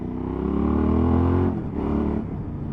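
A Suzuki V-Strom 1000 motorcycle engine revs up in a rising drone, dips briefly as the throttle closes, then swells again, loud and close.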